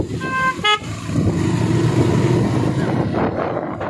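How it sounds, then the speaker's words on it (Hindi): Vehicle horn on a mountain road in Arunachal Pradesh gives a couple of short toots near the start, followed by a steady engine drone as the vehicle travels on. "कम से कम हॉर्न तो दो।"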